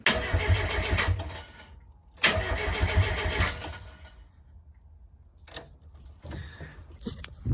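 A JDM-swapped Mazda Miata engine cranks and catches in two loud bursts, each lasting over a second, then drops to a quieter idle-like murmur with a few brief later blips, close up with no voices.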